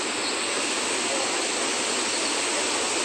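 The Saraswati river joins the Alaknanda near Badrinath with a steady, loud rushing roar of fast mountain water, unbroken and filling the whole moment.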